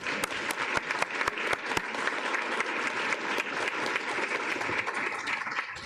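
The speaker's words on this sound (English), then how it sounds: "So if we can give them a round of applause." Audience applause at a school district board of trustees meeting: a room full of people clapping steadily for several seconds, with a few sharper individual claps standing out near the start.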